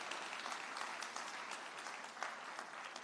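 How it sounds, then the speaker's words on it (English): A round of applause for a minister at a national AI lab signing ceremony in Jamaica, dense steady clapping from a crowd, fairly faint and distant throughout. "Give her a big round of applause for being here with us."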